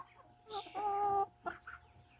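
A hen gives a few close, drawn-out clucks in short bursts, separated by brief pauses, over a faint electrical hum.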